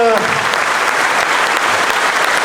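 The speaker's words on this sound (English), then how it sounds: "Big round of applause for the" A large audience at a furry convention closing ceremony breaks into dense, sustained applause for the volunteers, loud and steady, after a brief spoken lead-in at the start.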